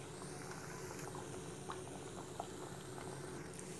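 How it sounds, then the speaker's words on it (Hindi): Papri dough crisps fry in hot oil over low to medium heat for khasta namkeen, giving a dense, steady sizzle and fine bubbling that runs unbroken and fairly close, with no talking. "तेल हमारा गर्म हो चुका है, इसे अब और पापड़ियाँ डाल देंगे।"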